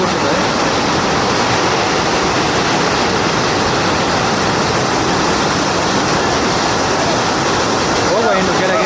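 Water pours down the Bajpe Madaka waterfall near Mangalore, a fall fed all year round. It makes a loud, steady, unbroken rush that fills the whole stretch without pause.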